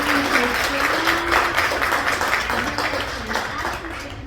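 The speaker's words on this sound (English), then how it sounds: "one just giant, huge round of applause, please, for Jill and Nan" Sustained audience applause at a trustees meeting, dense steady clapping from a crowd filling the room, with a voice partly audible underneath.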